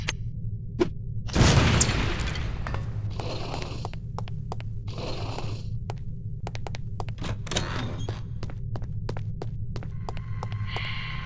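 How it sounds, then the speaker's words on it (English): An explosive lipstick grenade from No One Lives Forever detonates in one loud boom, then a low throbbing hum and scattered short clicks and bursts carry on alone. "These relatively inconspicuous-looking lipsticks are actually powerful explosive devices that detonate on impact."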